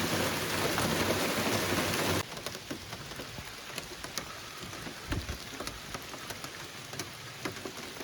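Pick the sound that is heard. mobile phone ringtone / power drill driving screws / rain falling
rain falling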